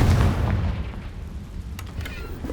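Confringo, a blasting spell in a video game, erupts in a deep, booming explosion at the start that rumbles and fades, followed by scattered crackles.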